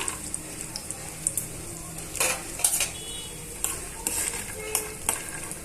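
Peanuts, about a hundred grams, fry in well-heated oil for a green chilli peanut chutney, giving a steady soft sizzle broken by stirring scrapes and occasional louder crackling bursts, close up with no speech.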